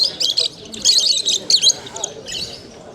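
Caged budgerigars at an animal market chirp in busy, overlapping bursts of bright twittering, fairly close and continuous, with faint background voices beneath.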